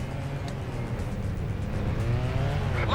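Car chase in a stunt driving video game, a steady engine drone with rising squealing tones near the end as the tires slide, continuous and fairly loud with no talk.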